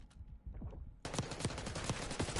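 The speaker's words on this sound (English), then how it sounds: "Gunshots will go back and forth." Gunfire breaks out during a Call of Duty match, beginning with scattered shots and turning abruptly into a dense, loud automatic burst that rattles on continuously to the end.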